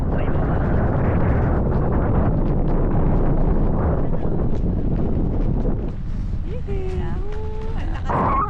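Strong wind while parasailing at sea off Boracay roars steadily and loudly against the microphone, with a speaking voice and faint motor whine coming through near the end.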